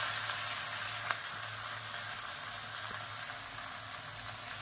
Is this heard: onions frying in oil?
yes